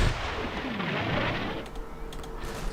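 Tank cannon and mortar fire in the WWII video game Combat Mission, Market Garden campaign: a dense rumbling barrage of booms and blasts rolling continuously, with scattered sharper cracks toward the end.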